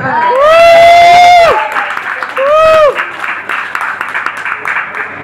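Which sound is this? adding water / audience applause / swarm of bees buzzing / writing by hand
audience applause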